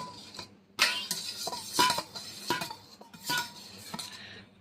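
Dal is served onto a plate, with metal spoons and utensils scraping and clinking against steel dishes in several separate bursts, close by and fairly quiet, with no talking.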